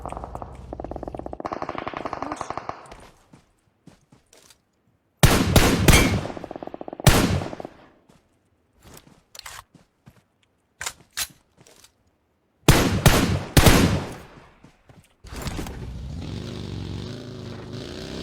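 Gunfire in PUBG Mobile on the Erangel map, dense bursts of rapid automatic shots in several loud clusters separated by quiet gaps, with a vehicle engine droning at the start and end.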